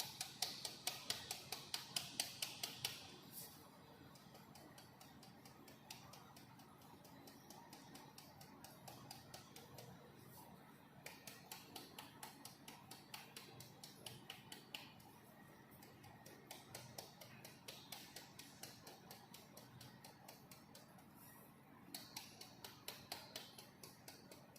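Baby talcum powder being sieved on paper in a pharmaceutics lab, a faint, steady run of soft ticking taps from the sieve, repeating at an even pace with brief pauses over a quiet background.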